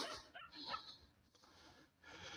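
Dogs guarding a hill bark and yip at dawn, a few sharp, faint barks with whimpering tones heard from a distance against quiet background noise.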